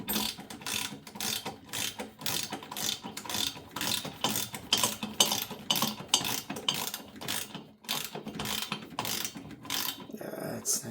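A ratchet driver clicks rapidly in repeated bursts while tightening a bolt on a Kenmore washing machine, close and fairly quiet, with short pauses between strokes.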